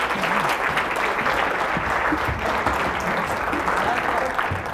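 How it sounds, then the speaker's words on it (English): A large audience applauds a motivational speaker, steady dense clapping throughout, with a few faint voices mixed in under it. "Let's give a big round of applause for Clay."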